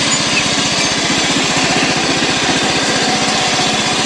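A tractor engine, used for mowing grass, runs loud and close under throttle with a steady, rapid chugging pulse that holds even throughout, and no one speaks.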